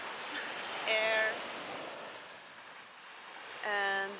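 Ocean waves wash onto a beach in Landes, France as a steady, broad rushing surf, with two short bursts of voices breaking in over the roar.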